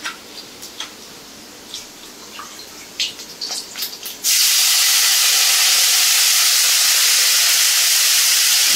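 Mint, coriander and curry leaves are dropped into a hot pan of oil with chillies, setting off a sudden loud, steady sizzle and hiss that fills the second half after a few softer clinks and pan sounds.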